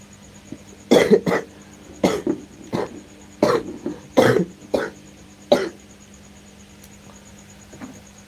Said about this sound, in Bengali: কাশি কাশি উঠে আসছে